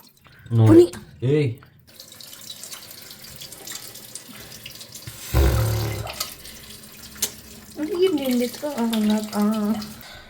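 Cold water splashes in a short gush from a tap or container for bathing, with people talking before and after it.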